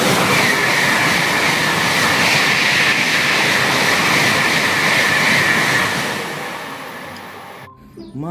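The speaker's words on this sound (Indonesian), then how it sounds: "Wow, ada kereta api cepat teman-teman." A high-speed train rushes past loudly with a continuous roaring rumble and rail noise, fading away toward the end.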